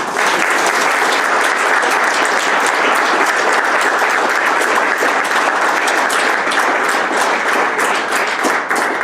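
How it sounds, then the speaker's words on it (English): Sustained applause from a crowd, a dense wash of clapping that stays loud and even throughout. "Let's give a round of applause"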